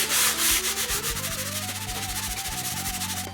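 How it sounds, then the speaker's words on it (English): Sandpaper works over a dyed wooden Telecaster guitar body in quick back-and-forth strokes, with a loud, steady, rhythmic rasp and a brief pause near the end. "And then I will sand some of it off again."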